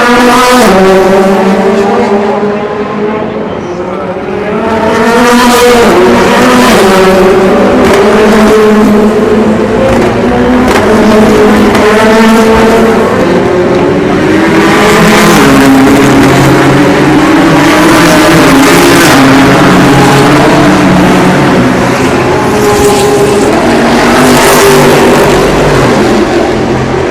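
Audi and Porsche race cars at the 24 Hours of Le Mans 2016, loud sustained engine roar with rising and falling pitch as cars pass and accelerate, continuous and dense throughout.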